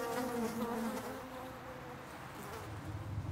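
A steady, low carpenter bee buzz drones close by for a few seconds, its pitch wavering slightly as it hovers.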